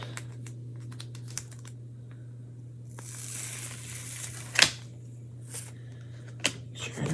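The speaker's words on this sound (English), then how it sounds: "And we're going to take it off the corner there and peel it off." A Chalk Couture transfer being peeled off a surface, a soft rising tearing rustle with a few ticks and crinkles, close and quiet over a steady low electrical hum.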